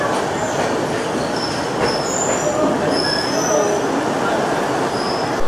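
Durgiyana Express pulling into Asansol Junction, steady rumbling rail noise with high metallic wheel squeals recurring throughout, close and continuous.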